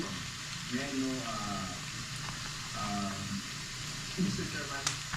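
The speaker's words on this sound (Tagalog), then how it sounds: "Piprito ko muna yung manok." Chicken breast sizzles steadily in a pan with garlic, a continuous soft hiss of frying beneath someone speaking throughout.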